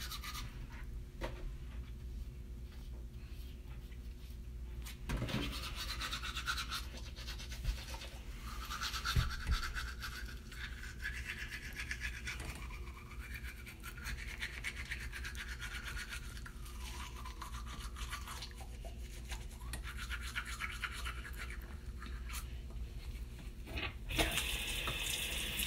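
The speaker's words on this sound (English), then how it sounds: "Now brushing my teeth." Teeth brushed with a toothbrush at a bathroom sink during a nighttime routine, steady close scrubbing with a running tap and water splashing throughout, no talk.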